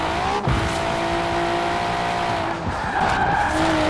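In Forza Horizon 4, a Nissan Skyline R33 takes a corner with its tires squealing loud and sustained over a steady engine drone. The squeal eases, then the engine revs up again as the car accelerates out of the turn.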